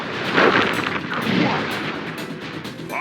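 Fiery firework attack explosions from a Sly Cooper video game finale, a dense run of booming, crackling blasts that swell and roll over about three seconds, loud and continuous with no clear gaps.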